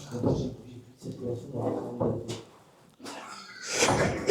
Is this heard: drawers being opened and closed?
yes